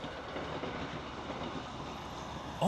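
A London North Western Railway train rolls past near a theme park site, a steady rumble of wheels on rails throughout with a sharp squeal right at the end.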